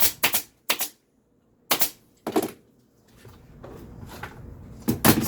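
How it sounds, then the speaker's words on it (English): Sharp staple-gun shots punch upholstery onto a boxed pad, five or six loud, separate bangs with short pauses between them, then quieter handling and rustling. "we'll do a different type of stapling on this"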